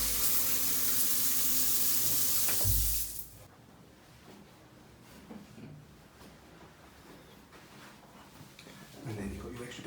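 Push-button shower in a hotel bathroom running water, a loud broadband rush for about three seconds that cuts off abruptly, leaving quiet room tone with faint handling noises.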